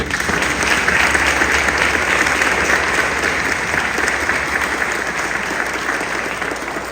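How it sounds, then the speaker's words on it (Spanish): A church congregation applauds the priests during a solemn mass, a sustained wash of dense clapping from many hands that holds steady for several seconds. "Vamos a darles un aplauso a los padres."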